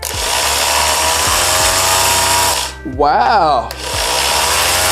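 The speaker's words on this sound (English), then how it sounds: "Because these sanders are usually very, very loud." An electric sander runs loud and steady off a Powdeom 614Wh portable power station, with a brief dip partway through as a voice exclaims over it.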